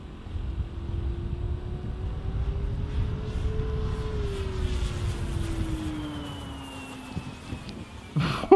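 Top Flite P-47D Thunderbolt Gold Edition RC model plane with a three-bladed prop flying overhead, its engine a steady drone that bends in pitch as it passes, climbs and fades slightly, with a brief louder burst at the end.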